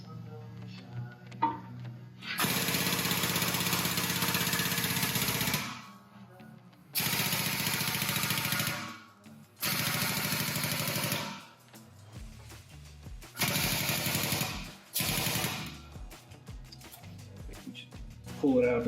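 A shop press forces a male plug into a female die through a 60-thousandths-thick 3003 aluminum sheet, forming a Ford FE coolant expansion tank: loud broadband grinding and mechanical roaring in four separate sustained bursts, with quieter gaps between.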